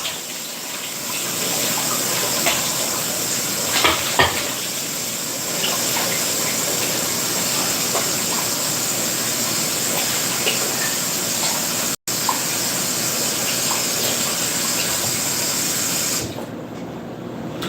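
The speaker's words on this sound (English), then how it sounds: "why don't I rinse this first? Rinse, rinse, rinse." Food rinsed under a running kitchen tap gives a steady gushing splash of water, close and continuous, with brief interruptions near the end.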